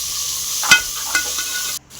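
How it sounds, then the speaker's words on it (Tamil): Onions and green chilies sautéing in a pan, a steady close sizzle with a couple of brief stirring scrapes before the frying noise suddenly drops away. "வெங்காயமும் பச்சை மிளகாயும் போட்டுக்கோங்க."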